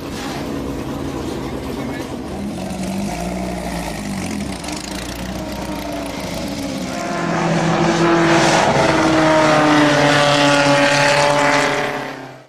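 A Lotus 15 race car, number 31, idles in the paddock at the Goodwood Revival in England. Its engine burbles low and uneven, then revs up louder and higher before cutting off, with voices mixed in.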